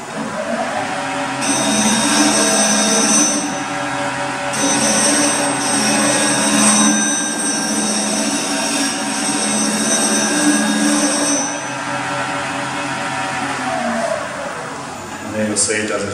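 Vicmarc CBN grinder sharpening a lathe scraper on the grinding rest base, a steady broadband grinding whine with a tonal hum running for the full length, up close and loud, with brief dips where the tool comes off the wheel; a person talks over it.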